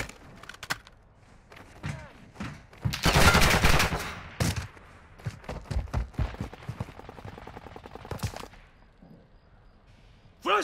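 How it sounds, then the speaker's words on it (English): Video game gunfire crackles in dense bursts and volleys, loudest in a sustained barrage mid-clip, with scattered single shots before and after. "You're shooting friendlies!"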